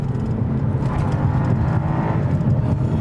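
A Cadillac STS-V at full throttle, its engine roaring loud and steady with a deep, dense low-end growl that holds without a break from start to finish.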